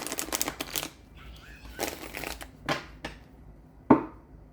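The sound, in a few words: shuffling a tarot card deck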